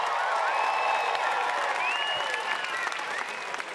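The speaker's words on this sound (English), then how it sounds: "Crowd, I need some more cheers." An arena crowd at a Fortnite tournament in Margaret Court Arena, Melbourne, applauds and cheers in a dense sustained wash of clapping and whoops that eases slightly toward the end.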